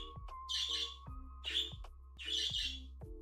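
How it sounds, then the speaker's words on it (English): Pet birds kept indoors chirp and squawk in three loud, bright bursts about a second apart, with steady thinner tweets and a low hum running underneath. "I don't know if you guys can hear my birds, but they're crazy."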